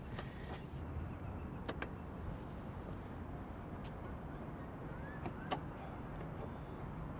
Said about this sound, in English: Around back, we have a power trunk.